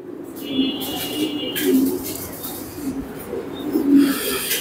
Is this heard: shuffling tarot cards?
no